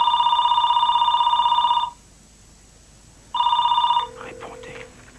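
A telephone bell rings loud and close in a French action film, one long burst, a short pause, then a second ring that cuts off as a voice starts talking.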